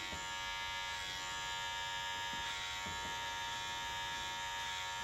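A JRL cordless clipper fitted with a detailer blade runs steadily, giving a close, constant high-pitched electric buzz with a faint underlying hum and no pauses.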